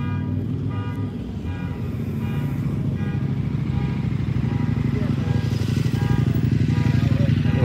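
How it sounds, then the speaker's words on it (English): Small off-road motorcycle engine revving at a car meet of exotics in Las Vegas, a loud buzzing drone that builds as it passes close, with people talking over it. "A little off-road bike. That's pretty cool."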